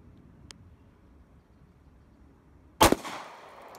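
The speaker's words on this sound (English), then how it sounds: "And we are firing." A single sharp gunshot from a .45 bonded round fired in a ballistics test, a loud close crack followed by a short decaying ring after a quiet stretch of faint background hum.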